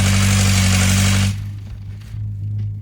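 Engine of an old Foton double cab pickup truck, over 20 years old, running steadily with a loud low hum that drops away after about a second, leaving a quieter idle.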